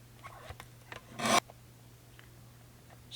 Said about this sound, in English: I'm just going to use my guillotine cutter because it's just easier to cut, and I'm going to trim these out